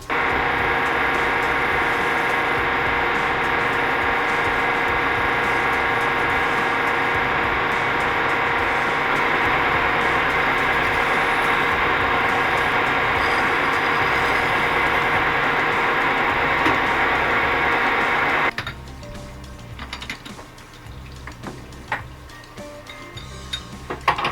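A lathe turns the edges of a 4x4 tractor kingpin with a steady mechanical whir and fine ticking for about eighteen seconds, then cuts off, leaving quieter scattered clatter.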